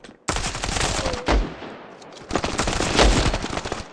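Automatic weapon fire in the mobile shooter Standoff 2 rattles out in two long, loud bursts of rapid shots separated by a brief pause, close and dominant with no talk over it.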